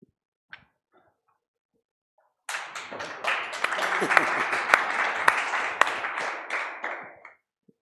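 Audience applause at a festival masterclass starts suddenly after a quiet moment, a dense burst of many hands clapping with a few sharp louder claps, holding steady for about five seconds before stopping abruptly.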